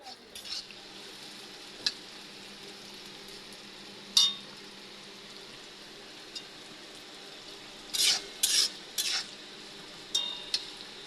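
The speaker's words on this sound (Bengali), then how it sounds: "এখন করলা আলু ভাজি করা হবে সেজন্য কড়াই পেঁয়াজ মরিচ দিয়ে দেওয়া হয়েছে" Onion and chili frying in oil in a wok for a bitter gourd and potato fry, a quiet steady sizzle with occasional sharp clinks and scrapes of a spoon against the pan.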